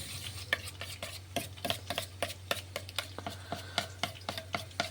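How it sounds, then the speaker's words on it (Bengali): A utensil stirs sauce in a kitchen, giving a steady run of sharp scraping strokes roughly twice a second over a low background hum. "আর এদিকে সসটা একটু গুলে নিই"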